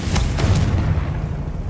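Confringo spell blast in Hogwarts Legacy, a loud close boom with a heavy low rumble that rolls out and lingers for over a second.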